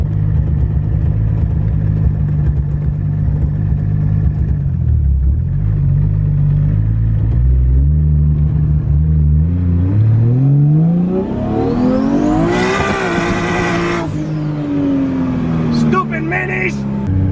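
Widebody Nissan S13 with a 1JZ engine revs up and accelerates hard, loud and close, the engine note climbing steadily through the gears with a sharp high-pitched peak before easing off.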